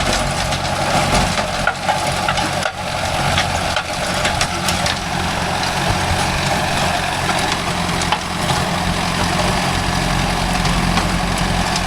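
A Mahindra 605 DI tractor labors steadily in a field while pulling a rotavator, a loud continuous diesel drone with rough mechanical clatter, close by and without speech.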